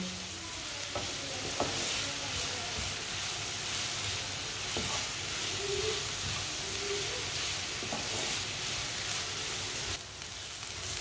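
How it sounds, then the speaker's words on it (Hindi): Onions fry in a pan while a spoon stirs them, giving a continuous close sizzle with scattered scraping clicks and a brief dip near the end, no voices. "इसे चम्मच चलाते हुए पकाना ताकि प्याज हमारे पूरी तरह पक जाए"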